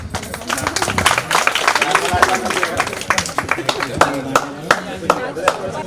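An audience at a school alumni gathering claps in scattered, uneven bursts of hand claps, close and lively, while someone speaks over the clapping.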